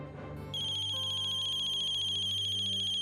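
A phone ringtone plays a bright, repeating electronic melody with a steady high beeping tone, continuous and fairly loud, with no one speaking.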